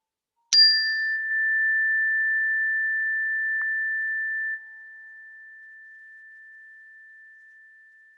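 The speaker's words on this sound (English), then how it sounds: "I'll invite the bell." A meditation bell is struck once, giving a sharp clear onset and then a pure, steady ringing tone that slowly fades over several seconds in a quiet room.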